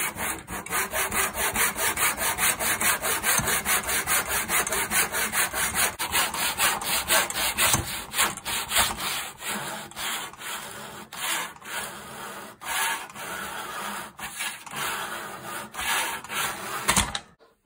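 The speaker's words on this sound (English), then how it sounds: "So it's just a matter of sawing it up." A hand saw cuts through the wooden stock of an AYA No. 25 shotgun in a gunsmith's workshop, giving close, steady back-and-forth rasping strokes in a fast, regular rhythm that continues for the whole stretch without speech.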